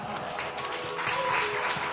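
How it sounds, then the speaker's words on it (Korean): Applause from an audience at a student poetry recital comes through as a soft, steady clatter of many hands, fairly distant and low in level throughout. "박수 부탁드립니다."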